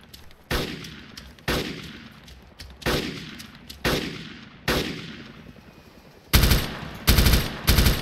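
Repeated gunshots from a video game shooter, six spaced single blasts about a second apart followed by a rapid, loud automatic burst near the end, sharp and close with no talking over it.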